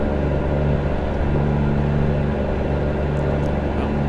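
An old Peterbilt 359 truck engine drones steadily as the truck gathers speed, a loud, even low rumble holding without pause under cab noise.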